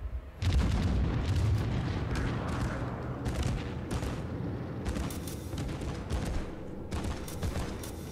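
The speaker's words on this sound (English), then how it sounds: "That dive bomb didn't help." Dive bomb explosions slam into a warship in World of Warships, a sudden heavy blast followed by a string of rumbling booms and sharp cracks of gunfire, loud and close throughout.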